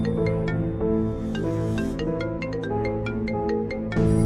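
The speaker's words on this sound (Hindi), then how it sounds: "अरे ये मोबाइल किसका बज रहा है?" A mobile phone ringtone plays as a repeating electronic melody with a steady rhythm of chiming notes, loud and close, with no talk over it.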